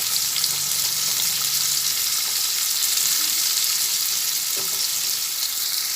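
Meat pieces fry in hot oil in a kadai, a loud, continuous hiss of sizzling that holds steady and close throughout.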